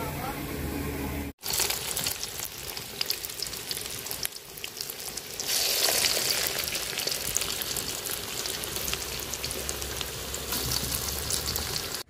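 Cabbage pakora fritters frying in oil on a stove give a continuous close, hissing sizzle that swells louder partway through, with a voice speaking at times.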